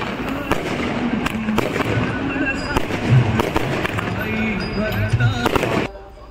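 Firecrackers bursting to celebrate a Sai palanquin reaching its overnight halt at Pangri village on the Uran to Shirdi pilgrimage: a loud, dense run of crackling pops and bangs that cuts off abruptly near the end.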